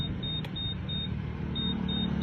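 A motorcycle's remote anti-theft system gives a repeated high electronic beep, about five evenly spaced pulses, signalling that the key fob is not detected, over a steady low idling engine rumble.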